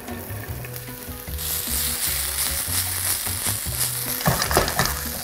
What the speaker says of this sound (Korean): 그래서 이거 조금 살짝 볶아서 여기 조금만 똑같은 올리브 오일.